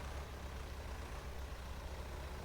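Tractor engine in a historical farming video game, a low, steady idling rumble that stays even throughout the short stretch, with no voices over it.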